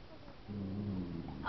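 A dog growls low and close, a short rumbling growl that builds over about a second and ends with a sharper high yelp or whimper.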